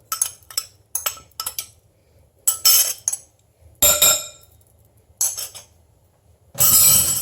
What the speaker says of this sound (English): I have a whisk, and I'm going to start to whisk those two together.